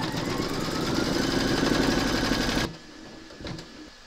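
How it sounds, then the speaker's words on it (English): An embroidery machine satin-stitching the sleeve of a large in-the-hoop scarecrow appliqué runs in a fast, steady mechanical chatter, then stops abruptly, leaving a quiet room with a small clunk. "load your thread colour for the satin stitching of the sleeve into your machine, and then you're going to stitch round number 20"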